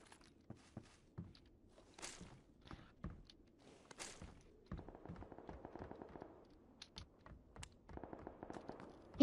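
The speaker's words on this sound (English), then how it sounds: "Got gunshots quite a ways off" Sharp scattered pops and bursts of rapid crackling fire at a distance in the video game PUBG, with clicking sounds between them and no talking.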